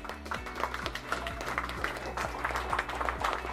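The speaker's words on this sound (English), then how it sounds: "Let's give her a huge, huge round of applause, please." Applause for a women's cricket award winner at an honours ceremony, a moderate crowd clapping steadily over a rhythmic musical backing with a low pulsing beat.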